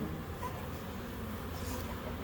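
Honey bees buzz continuously around a production colony hive, a dense, steady drone close by with no talk.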